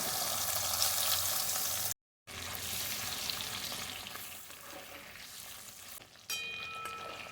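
Whole eggs fry in oil in a pan, giving a dense steady sizzle and crackle nearby that cuts out briefly twice before resuming.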